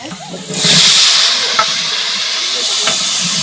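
Potatoes drop into a hot pan for a Gujarati brinjal-and-potato curry, sending up a sudden loud sizzle that settles into a steady, hissing fry.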